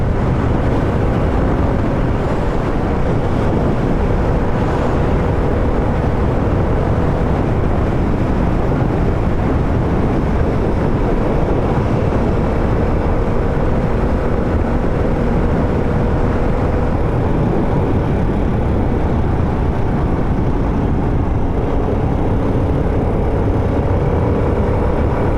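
Steady, loud engine drone from a Vespa VXL 150 scooter on a long ride, continuous and unchanging, mixed with wind rumble and no talk.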